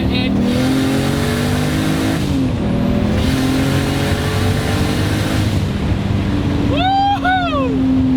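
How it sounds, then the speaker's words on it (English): Twin-turbo Nissan 240SX pulling hard in third gear, a loud steady engine drone rising in pitch throughout, with a brief whistly turbo note near the end. "But I go into third gear, I give it a little bit"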